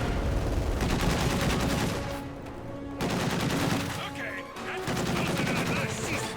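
Dense, continuous gunfire from rifles and machine guns in a Company of Heroes 2 multiplayer battle, with bursts overlapping in rapid crackling volleys, briefly thinning in the middle before the fire picks back up, with faint voice over the top.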